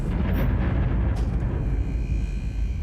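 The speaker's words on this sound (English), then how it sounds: "That's those bloody explosions again." Explosions go off in the video game Starfield, a loud booming blast with a rumbling tail that fades over a few seconds, followed by a second, duller burst.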